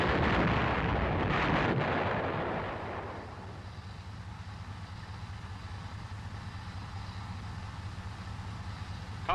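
An M551 Sheridan armored reconnaissance assault vehicle fires its main gun during a live-fire drill: a heavy, roaring blast opens and decays over a few seconds into the steady low rumble of the idling engine, with no talk.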